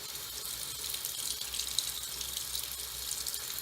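Tap water runs steadily over fabric in a sink as embroidery stabilizer is rinsed out, a continuous, close hiss of flowing water with no talking.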